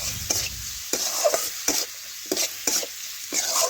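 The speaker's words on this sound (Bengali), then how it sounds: "এটাও ভালোভাবে আলুর সাথে কিছুক্ষণ আমি ভেজে নিচ্ছি।" Potatoes frying with ginger, cumin, pepper and garlic paste while being stirred in a pan, a close steady sizzle broken by regular scraping strokes of the spoon, with no talk.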